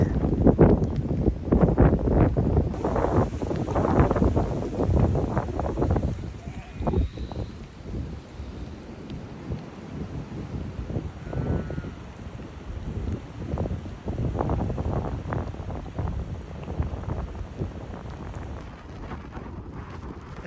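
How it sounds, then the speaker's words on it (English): Strong peak wind gusts in Derbyshire buffet the microphone in heavy, uneven gusts, loud and roaring at first, then easing slightly before surging again. "this clip happened to be taken at about our peak wind gusts in Derbyshire"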